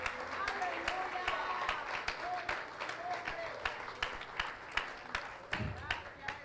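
Church congregation claps in sustained applause, a dense wash of many hands with a few sharper claps rising and falling, no voices over it.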